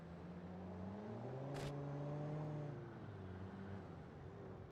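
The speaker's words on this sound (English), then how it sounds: "Sounds like a diesel there." A heavy diesel truck engine in BeamNG drones quietly at a steady idle, its low harmonic hum shifting slightly in pitch, distant-sounding with a brief click partway through.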